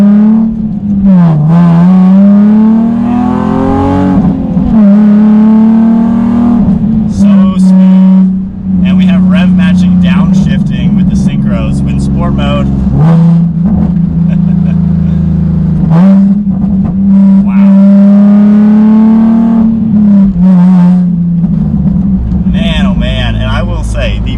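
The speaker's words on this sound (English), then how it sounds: "So one more acceleration, and then we'll do some twisties." A Nissan 370Z Nismo engine revs hard and climbs through the manual gears, loud and up close, with repeated rising whines between shifts.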